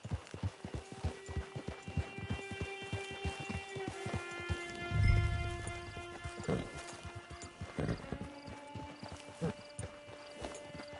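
Horse hooves clip-clop at a steady walking rhythm in Red Dead Redemption Online, soft and fairly close, over a quiet tonal background.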